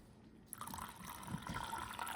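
Distilled water pushed by syringe pours out the back of a repaired Laerdal SimMan Essential manikin right arm into a cup, a close, steady liquid trickle and splash that swells after a quiet start, with no speech.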